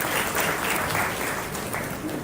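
An audience at a leadership training program opening ceremony in Accra breaks into brief, dense applause, a continuous wash of clapping.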